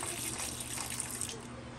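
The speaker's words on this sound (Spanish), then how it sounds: "Echamos las quenepas y le vamos a echar una taza de agua." Water from a cup pours into a pot of quenepas, a brief close splashing gush that lasts under two seconds.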